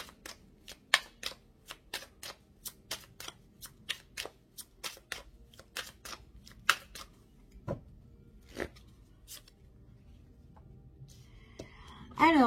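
Tarot cards shuffled for a reading make a run of crisp, sharp card snaps, quick and dense at first and then sparser, with a brief rustle at the very end.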